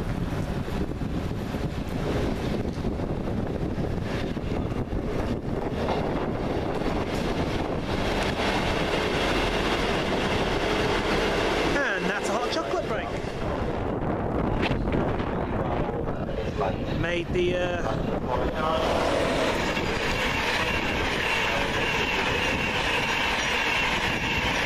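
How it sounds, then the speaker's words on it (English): East Midlands Class 158 unit 158774, running the 1641 service to Liverpool Lime Street and Norwich at Peterborough, rumbles past loud and close with steady clickety-clack and wheel noise, buffeted by heavy wind noise and some background voices. "the 1641 East Midlands train service to Liverpool Lime Street and Norwich"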